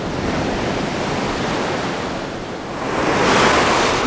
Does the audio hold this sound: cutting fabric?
no